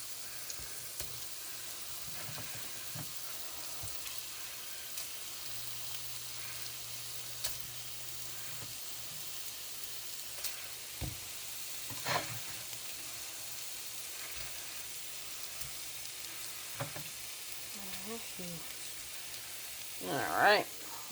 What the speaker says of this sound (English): We're going to let those brown up for a little bit.